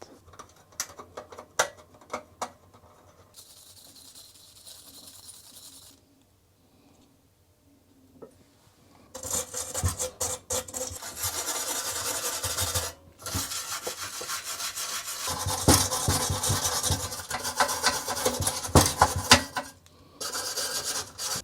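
A small metal brush scrubs rust off the case of a 1987 IBM PS/2 Model 30 PC, giving short scratchy rasping bursts with pauses, then longer continuous rubbing strokes close up.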